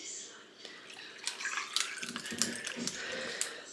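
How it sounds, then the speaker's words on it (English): Homemade lemonade made with Eureka lemons poured from a pitcher, a soft close trickle and splash building in the second half, fairly quiet and alone. "I'm gonna go ahead and pour my lemonade here"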